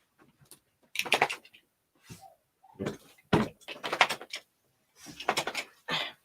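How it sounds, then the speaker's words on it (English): An indoor door is pushed shut, giving a series of close knocks, rattles and a firm thud spread over several seconds, with short quiet gaps between the bursts. "Lady opened my daggone door. Hold on, guys. Let me shut it back."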